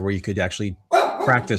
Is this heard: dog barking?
yes